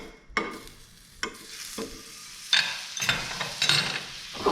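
Butter and oil in a pan for a BLT, heard as a series of separate stirring and scraping strokes with brief sizzle bursts between quieter gaps, close but fairly soft, without talking.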